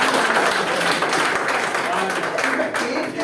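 An audience claps at a one-day health workshop training program in Ludhiana, a dense, continuous patter of applause throughout that blends with loud talking.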